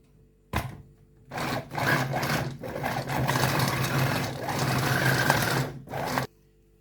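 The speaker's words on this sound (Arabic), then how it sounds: "هبدا بقى افرمه مع شويه البصل دول الاخرانيين" An electric chopper minces spicy hot peppers with onions, its motor whirring close by in a brief burst, then a long steady run broken by a few short pauses, with no talking.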